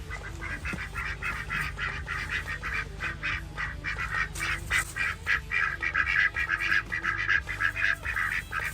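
Ducks and geese honk and quack in a busy, overlapping chorus close by, with repeated nasal calls over a low steady background hum around an off-grid container home.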